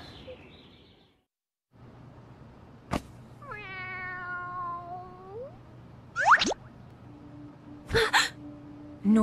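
A cartoon cat in an animated movie gives a drawn-out meow with a rising, bending tone, followed by sharp springy cartoon sound effects and clicks.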